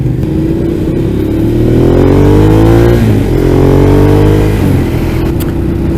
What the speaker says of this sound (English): Definitely has an exhaust note like pretty much no other bike I've heard.